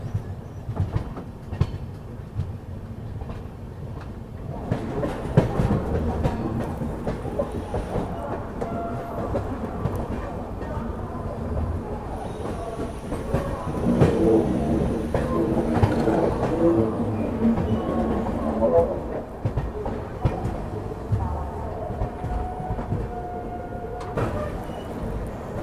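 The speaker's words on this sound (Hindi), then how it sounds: "चलिए दोस्तों, फाइनली अपनी ट्रेन जो है सिकंदराबाद अराइव कर रही है।" The 12286 Nizamuddin–Secunderabad Duronto Express rolls into Secunderabad, a continuous low rumble of wagons and faint clickety-clack of wheels, growing somewhat louder midway, with distant station background noise.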